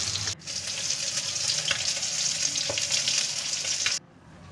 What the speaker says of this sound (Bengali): মাছগুলো প্রায় ভাজা হয়ে গেছে,